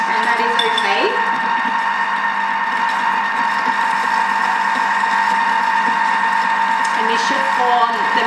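Stand mixer with a butterfly whisk beating eggs and sugar into meringue for vanilla ice cream, a steady loud whirring drone with faint clinks, running continuously throughout.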